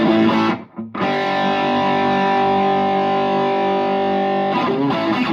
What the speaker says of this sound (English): Here's a bomb distortion.